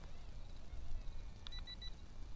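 Three short, faint electronic beeps in quick succession over a low, rumbling background hum.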